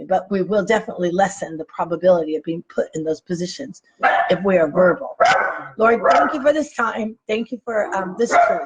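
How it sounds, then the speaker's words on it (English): A pet dog barks in a room during a spoken sermon, its several short yips and woofs mixed under and between continuous talking. "Sorry, that was my dog."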